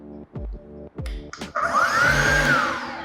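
A Firman FEB58V cordless electric blower starts with a few clicks and brief motor bursts, then spins up into a loud, steady whirring rush of air with a rising whine.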